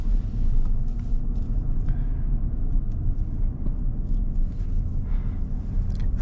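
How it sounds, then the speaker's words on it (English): A GMC Sierra SLT pickup's V8 engine with a 10-speed transmission hums as it drives, a steady low rumble close by with road noise and no talking. "V8 sounds really expressive, and the 10-speed makes this thing a beauty to drive around all the time."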